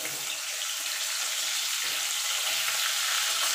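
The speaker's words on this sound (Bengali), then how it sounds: "এবার আলুগুলো ভেজে আমি তুলে নেব" Potatoes fry in hot oil for a boal fish curry, a dense continuous loud sizzle that stays steady throughout, close and without talk.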